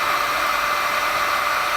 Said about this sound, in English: So I'm going to use a heat gun. If you don't have a heat gun, you can use a hair dryer.